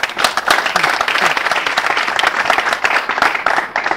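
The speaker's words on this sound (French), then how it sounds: "Si c'est le cas, applaudissez pour vous-même." A studio audience at a French-language public debate programme applauds, a dense, loud burst of clapping that fills the moment without pause.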